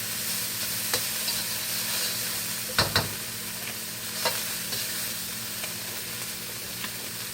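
Peas and carrots stir-fried in a little oil for Yangchow fried rice give a steady sizzle, broken by a few sharp clacks and scrapes of the utensil against the pan, loudest near the middle.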